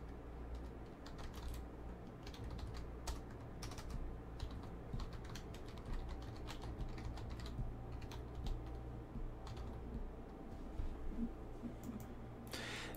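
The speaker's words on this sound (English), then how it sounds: "Jeff Murr, sorry if that typing was a little loud, man." Rapid computer keyboard typing clatters steadily and quietly throughout, a continuous patter of key clicks under a low background hum, during online poker play.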